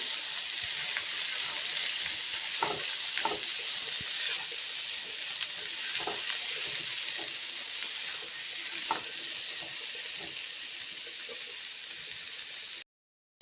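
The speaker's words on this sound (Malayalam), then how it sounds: "പൊടിയും കൂടി ഇട്ടൊന്ന് ഇളക്കി" Bitter gourd fish curry sizzles steadily in the pan as spice powder is stirred in, with scattered scraping strokes of the spoon over a continuous frying hiss before it cuts off abruptly at the end.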